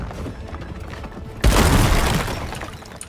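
A sudden heavy blast of gunfire erupts in Chaos Gate after a low rumbling background, a loud crashing impact with a shattering, sustained tail that slowly fades, no talking.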